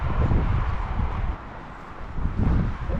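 Blustery wind buffets the microphone in low, rumbling gusts that swell, ease off briefly, then return, on a coastal walk from Wadebridge to Newquay in Cornwall.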